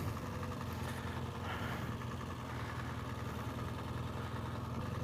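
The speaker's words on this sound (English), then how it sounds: "Put it in first gear and stand up and just let it idle." A BMW GS 1200 motorcycle engine idles in first gear with a steady, low, throbbing rumble. It runs evenly and continuously, close by and fairly quiet, with no talking.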